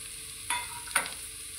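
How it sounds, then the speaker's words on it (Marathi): Onion and tomato frying together in a pan, a faint steady sizzle broken by two short scraping stirs of a spoon, with no talking. "आता त्याच्यामध्ये मी टोमॅटो पण टाकते. ते पण मी तळून घेते."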